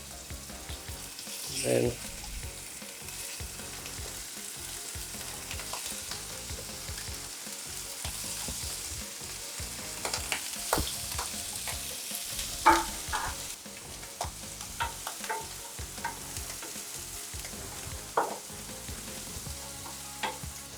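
Pork pieces fry in oil in a pan, a steady soft sizzle running throughout with intermittent stirring and scraping clatters, fairly quiet overall.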